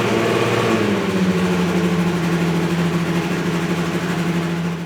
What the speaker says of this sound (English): The car starts with a very high idle.